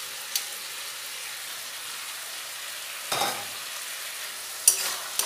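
Fried lentil dumplings (bori) stirred into spinach in a pan: a soft, even sizzle throughout, broken by two or three brief spoon scrapes.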